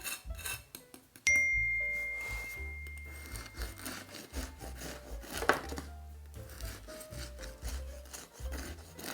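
A knife saws back and forth through a crusty homemade loaf of bread that has cooled to warm, giving raspy, scraping strokes in an uneven rhythm, close and fairly quiet.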